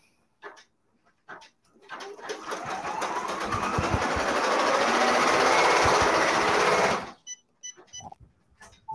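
An embroidery machine stitches a leaf appliqué on a shirt, running as a loud, steady rapid whirring for about five seconds after a few short clicks, then stopping abruptly and leaving a few faint clicks and beeps.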